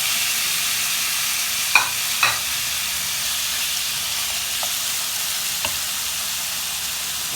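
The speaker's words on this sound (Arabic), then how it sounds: "هنا دابا غادي ندير هاد الطريفات ديال الدجاج، غنخليهم يتسخروا" Chicken pieces fry in a pan with a soft, steady sizzle that holds throughout, broken by a few small, sharp pops, and no one speaks.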